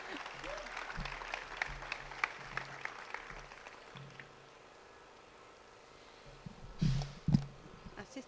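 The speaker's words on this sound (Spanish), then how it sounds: "Un aplauso." Light, scattered clapping from a small outdoor crowd at a Podemos rally in a Granada plaza, fading out partway through before a couple of louder thumps near the end.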